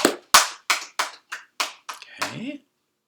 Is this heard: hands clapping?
yes